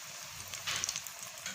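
Bread sandwich rolls stuffed with potato frying in oil in a kadai, a faint, steady bubbling sizzle with a brief brighter crackle midway, no voices.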